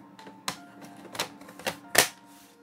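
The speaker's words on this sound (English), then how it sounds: "we're going to put back the top cover." Plastic top cover of an ASUS M70VR laptop being pressed back into place, a series of about four sharp snapping clicks spaced roughly half a second apart, close and fairly quiet, the last one loudest.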